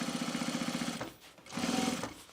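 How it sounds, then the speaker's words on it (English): A sewing machine stitches a bomber jacket seam in two rapid, evenly pulsing bursts, close and clear, separated by a short pause. "we're just going to stitch it down nice and straight."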